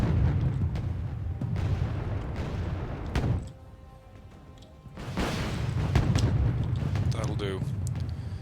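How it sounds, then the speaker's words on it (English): Missiles launching from a ship in the Cold War strategy game Wargame Red Dragon, heavy booming rumbles filling the clip with a brief lull in the middle, while someone talks over the gunfire. "I'm gonna just fire those missiles"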